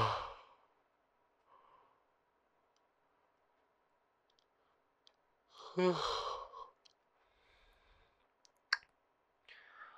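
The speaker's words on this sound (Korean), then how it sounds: "아, 하품이 나오는데 어떡하라고" A man on a phone call yawns once, a drawn-out breathy vocal sigh near the middle, with faint breathing and small clicks in an otherwise quiet, close ASMR role-play setting.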